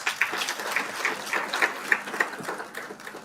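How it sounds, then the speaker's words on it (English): Graduation audience at the Mildmay Institute of Health Sciences clapping, a steady moderate patter of many hands with individual claps standing out, heard alone with little talk. "Can we clap for that?"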